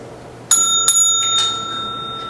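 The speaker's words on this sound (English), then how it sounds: "A single bell will sound when 5 minutes are remaining in the presentation like this." Single bell struck to signal five minutes remaining in a university graduation project competition presentation, a bright ringing tone with a few quick strikes that decays steadily, heard alone in a quiet room.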